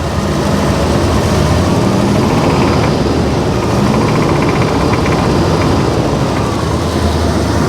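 An old car motor that knocks, on its first drive in 15 years, gives a loud, continuous low rumble throughout, with rough engine roar and no talking.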